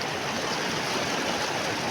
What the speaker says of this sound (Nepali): खोला चाहिँ यस्तो छ नि